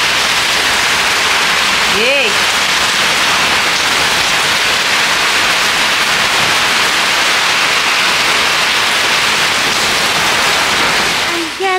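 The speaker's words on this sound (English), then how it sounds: "Rain started raining so heavy," Heavy rain pours steadily on a farm, a loud, continuous broadband hiss that runs unbroken throughout, with a brief voice exclaiming once near the start.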